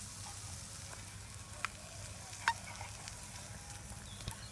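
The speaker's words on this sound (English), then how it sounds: "Sizzling away with butter, it always sounds and smells good." Steady, soft sizzling of vegetables frying in butter in a pan, with a few faint clicks and taps of utensils over the constant hiss.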